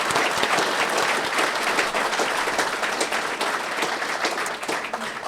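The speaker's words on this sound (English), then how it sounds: "So round of applause for Preston." Crowd at a Ducati dealership event in Preston during a motorcycle show broadcast applauding, a dense, continuous wash of many people clapping, fairly close and steady throughout.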